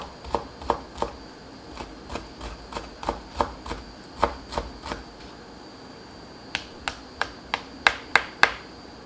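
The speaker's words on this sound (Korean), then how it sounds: "홍고추는 너무 고추가 너무 커서 반 개만 넣겠습니다. 쫑쫑 썰어주세요." A knife chops half a red chili pepper finely on a cutting board: a run of crisp, close taps in uneven bursts, with a short pause before a final quicker series. No one speaks.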